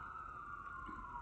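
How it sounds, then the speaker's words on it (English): Emergency vehicle sirens pass outside with a steady, faint wail that drifts slowly in pitch, heard indoors at a distance. "sorry for the sirens, guys."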